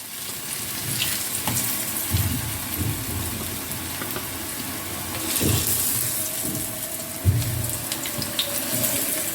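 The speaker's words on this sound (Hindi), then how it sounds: "अब इसमें हम जो पीसेस करके रखे थे वो हम इस तरह से फ्राई करेंगे" Pieces of patra, rolled and steamed colocasia leaf, fry in hot oil in a pan with a dense, continuous hiss and bubbling crackle, loud and close, with occasional soft knocks and no voices.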